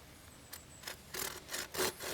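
Hand saw starting a cut in a wooden stick for a split stick figure-four trap, a few short rasping strokes growing louder and closer together, brief and close with no talk.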